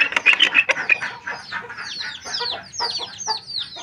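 Chickens cluck and squawk in a busy, overlapping stream of short calls close to the microphone while being given water on a small farm, with no talk.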